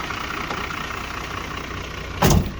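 A Toyota Land Cruiser 60 series (61) engine idles with a steady mid-low rumble, then a brief loud surge of revving stands out near the end, with no talking.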